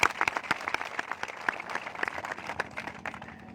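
Crowd at a village political rally for panchayat election candidates claps in a dense, fairly distant burst of applause that runs steadily and then thins slightly toward the end.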